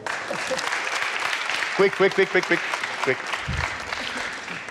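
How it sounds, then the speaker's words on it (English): An audience applauds a man returning to his seat during a BET 24 talk. Steady clapping runs throughout, with a speaker's voice talking loudly over it and a brief word spoken near the start. "An applause for him."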